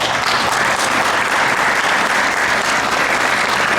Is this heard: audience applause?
yes